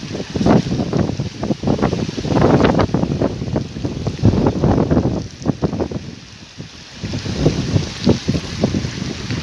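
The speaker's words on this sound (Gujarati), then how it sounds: "વરસાદ ચાલુ છે મિત્ર, જો જોરદાર વરસાદ" Heavy rain lashing down over farm fields during a storm, a loud, dense roar with gusty wind buffeting the microphone, continuous and close with no voices.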